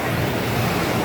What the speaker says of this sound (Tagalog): Gusto ko talaga binivideo yung mga waves ng dagat sa tabi ng pangtang.